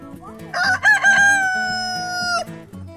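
A rooster crows loudly and close by, one long sustained cock-a-doodle-doo with a rising start and a drawn-out ending.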